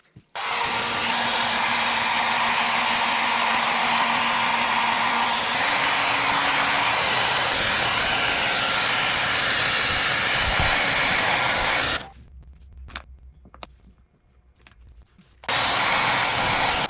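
A heat gun blows hot air over plastic wrap on a Stormtrooper mod, a loud steady whooshing roar running for about twelve seconds, cutting out briefly to quiet handling noise, then starting again.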